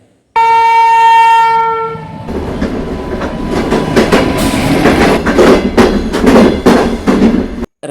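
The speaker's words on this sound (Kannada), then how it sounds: "ಅದರ ಮೇಲೆ ರೈಲಿನ ಗಾಲಿಗಳು ಚಲಿಸಿದಾಗ ಹೀಗೆ ಸದ್ದು ಮಾಡುತ್ತೆ." A train at the Mysuru railway museum, opening with a loud sustained horn blast, then a rumbling run of wheels clattering rhythmically over fish-plate rail joints, close and heavy, in repeated clickety-clack bursts.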